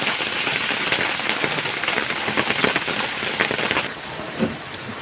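Steady rain pours onto dense roadside jungle vegetation, a loud continuous hiss of drops on leaves that eases slightly toward the end.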